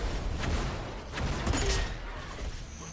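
Flak cannon fire in the arena shooter Unreal Tournament 4, a quick volley of several bursting shots clustered in the middle of the clip over background game noise and a faint commentator's voice.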